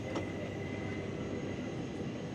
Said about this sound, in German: Ach, da kommt gerade schon eine S-Bahn an.